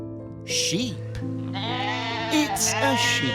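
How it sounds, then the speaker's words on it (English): A farm sheep bleats several times, wavering, nasal cries close to the mic, with a steady low hum beneath and a voice speaking. "It's a sheep."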